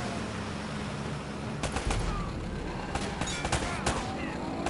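Gunfire in the video game Uncharted: Drake's Fortune, several short sharp shots and brief bursts scattered over a steady noisy background, with a voice talking at times.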